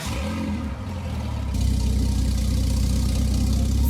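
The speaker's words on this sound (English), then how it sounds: "the idle sound on this is actually crazy" A W Motors Veneer Super Sport idles in Roblox Driving Empire, with a deep, rumbling, steady engine note that grows fuller and louder partway through. It runs alone, with no voices.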